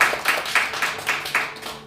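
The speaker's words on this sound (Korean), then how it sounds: "박수 부탁드리겠습니다." Light applause from a small church congregation: scattered hand claps in loose bursts, fairly close and fading toward the end, with no voices over them.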